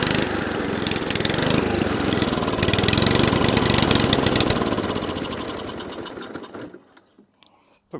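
A Mountfield 414 lawnmower engine hunts and surges, a loud buzzing mechanical drone that rises and falls in speed before cutting out near the end, leaving brief quiet.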